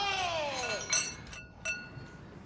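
Drinking glasses clink together during a celebratory toast at a festive gathering: a bright ringing chime that fades, followed by two lighter taps, fairly soft against a quiet room.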